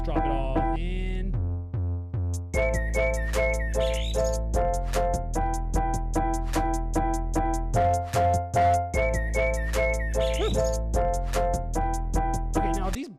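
Chirping bird samples ride over a full electronic music track with a steady beat, bass and repeating synth chords, the tweets recurring as short bright accents throughout.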